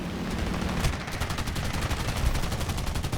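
A Ki-84 Ko fighter in War Thunder fires its .50 caliber machine guns in a steady rapid burst of evenly spaced shots lasting about three seconds, loud and close with no talking.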